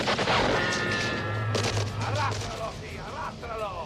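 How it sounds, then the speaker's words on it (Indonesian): Gunfire rings out in a jungle film scene, a burst of shots and crashing impacts, loud and close, with voices and other scene sounds layered over it. "Thomas melepaskan tembakan untuk menarik perhatian musuh agar mereka semua mengejar dirinya."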